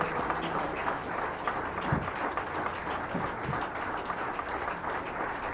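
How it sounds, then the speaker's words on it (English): Sustained audience applause at a political conference as a speaker comes to the podium, dense continuous clapping from a large hall crowd, loud and steady throughout. "Please, let's keep clapping until he comes"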